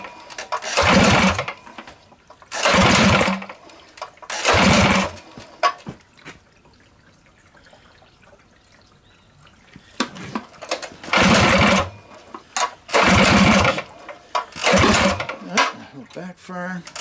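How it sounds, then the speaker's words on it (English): A rebuilt Tillotson 212cc small engine, starved of fuel, is pulled over repeatedly: loud, rough one-second bursts of cranking and sputtering, three in quick succession, a quiet pause, then several more, with faint voices in the gaps. "Backfire."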